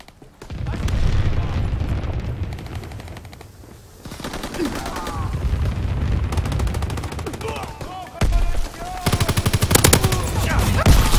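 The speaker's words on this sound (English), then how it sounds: "Enemy anti-aircraft fire." Anti-aircraft fire in Call of Duty WW2 multiplayer on the USS Texas map comes as loud, rapid bursts of heavy gunfire with booms, broken by short pauses.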